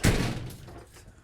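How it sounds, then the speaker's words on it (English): A house door leading out to a carport swings shut with one close, solid thud that fades into a short room echo. "this is that door I mentioned off of the carport"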